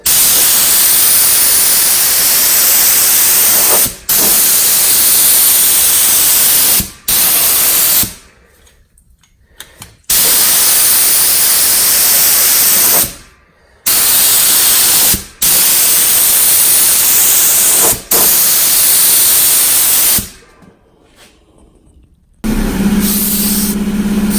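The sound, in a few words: HVLP spray gun spraying Rustoleum protective enamel paint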